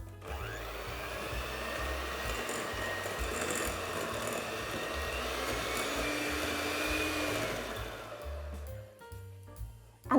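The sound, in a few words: electric mixer creaming margarine and sugar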